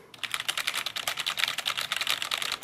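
Rapid, steady clicking comes from typing on a Roccat Vulcan 121 mechanical keyboard. The dense, even keystrokes are close and fairly loud, with no voices present.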